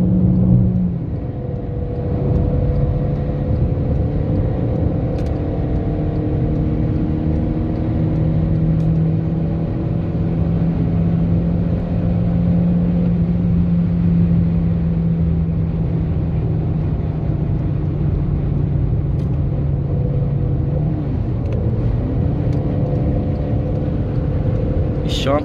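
A Chevrolet Cruze 1.4 turbo accelerates hard during a street race, heard from inside a car as a sustained engine drone and rising whir with steady road rumble throughout.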